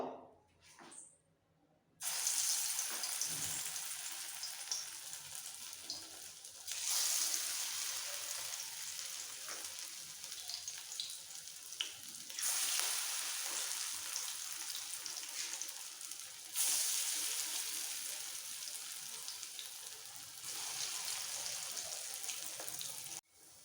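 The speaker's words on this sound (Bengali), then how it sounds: "বড়াগুলো ভাজার জন্য তেল গরম হয়ে গেছে এবার একটু করে ডাল বাটা বড়ার আকার করে ছেড়ে দেবো" Mashed-pea lentil paste fritters sizzling in hot refined oil, a steady broadband crackle that surges in several bursts as new dollops go into the pan, close and fairly loud with no talking.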